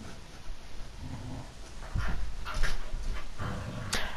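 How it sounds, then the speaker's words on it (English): A dog in the game Far Cry 5 pants, whimpers and growls through a scuffle, with close, busy bursts of canine noise over game ambience. "Dog, stop fighting!"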